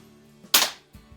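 Single sharp crack of a Crosman 130 air pistol shot, close and loud with a quick decay, followed by faint low handling noise.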